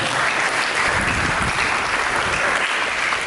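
A church congregation applauds during a sermon, a dense, steady wash of many hands clapping at close range that holds at full strength from start to finish.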